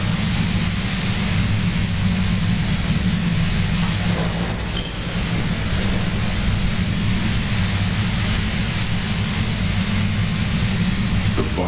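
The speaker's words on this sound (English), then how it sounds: "The violent white noise becomes even more overwhelming the closer to the compressor." Roaring white noise near a compressor in the video game Disco Elysium: a dense, steady broadband hiss with a low rumbling floor, continuous and loud, briefly dipping midway before resuming unchanged.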